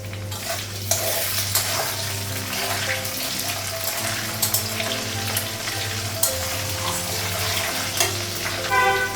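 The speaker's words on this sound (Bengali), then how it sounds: "লঙ্কাটা একটু ভেজে নিয়েছি" Dried and green chillies fry in a pan with a continuous sizzle and scraping stirs, close and fairly loud, with music running underneath.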